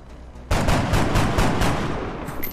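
Gunfire in the video game XCOM: Enemy Within, a sudden loud burst of rapid automatic shots, about eight quick pulses, with a rumbling tail that fades out.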